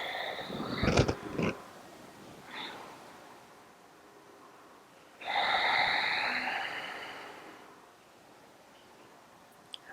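Slow, deep breaths during yoga practice: a sharp audible inhale near the start, then a long, close exhale of breathy noise midway, with quiet pauses between.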